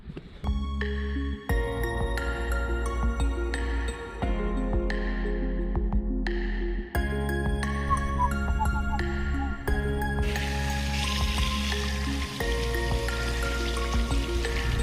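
Water sprays and splashes steadily for the whole stretch, rinsing a dirty K&N air filter from the top downward, with a droning, whining machine tone underneath and brief pauses in the flow.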